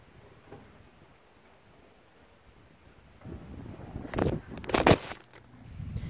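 Quiet at first, then gusty wind at a horse stable buffets the microphone in rumbling bursts that grow louder toward the end.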